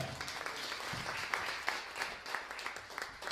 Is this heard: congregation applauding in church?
yes